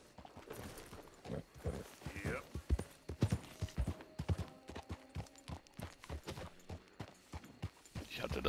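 Clear, rhythmic horse hoof clops at a walking pace in the video game Red Dead Redemption 2, fairly close, with a short voice briefly heard over them.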